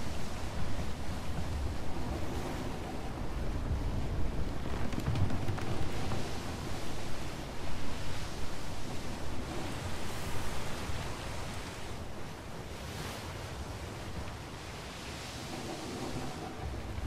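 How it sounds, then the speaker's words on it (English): Strong cyclone wind rushes over the sea in the sailing game ATLAS, a steady broadband roar with surging swells and no voices. "Getting that good cyclone wind right now."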